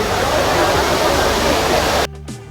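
Water splashing at the Trevi Fountain in Rome, a steady, loud rushing wash that fills the scene, then cuts off abruptly near the end.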